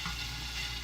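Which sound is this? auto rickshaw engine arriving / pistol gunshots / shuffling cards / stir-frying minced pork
stir-frying minced pork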